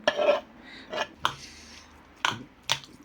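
Light clinks and scrapes of a utensil against a bowl while stirring a mushroom and cheese filling, several short knocks spaced apart, close by with no talking.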